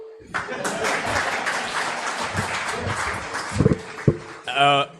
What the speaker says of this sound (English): A round of applause as he goes back.